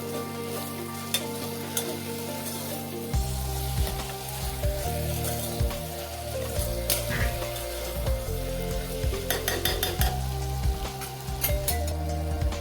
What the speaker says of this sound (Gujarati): બધાને સરસ હલાવી દઈશું